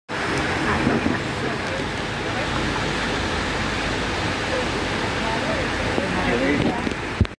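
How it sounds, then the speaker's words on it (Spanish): A roughly 80-foot waterfall in El Yunque rainforest, Puerto Rico, gives a steady, full rushing roar that holds evenly throughout, with a voice faintly heard beneath it. "van a ver la cascada"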